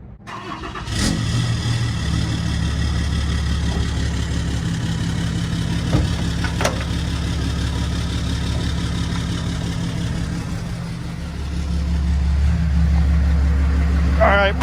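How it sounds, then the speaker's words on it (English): A winch truck's engine cranks and catches, then settles into a steady near idle with a low continuous rumble, a couple of sharp clanks, and a rise in revs toward the end while someone talks over it. "We're gonna go ahead and fire the truck up."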